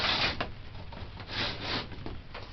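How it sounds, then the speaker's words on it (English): A greenhouse door slides and scrapes shut with a couple of rattling bumps, fairly close and brief, with no voices. "I'm going to close the door."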